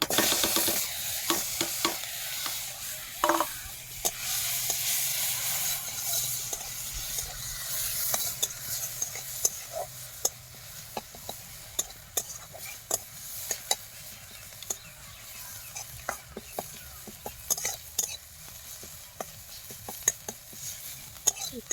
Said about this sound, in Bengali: এখন এখানে পেঁয়াজ কুচি দেব।